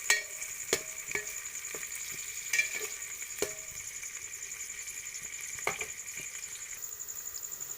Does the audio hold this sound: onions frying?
yes